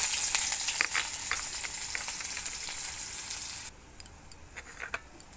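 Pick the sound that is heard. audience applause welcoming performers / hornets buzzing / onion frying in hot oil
onion frying in hot oil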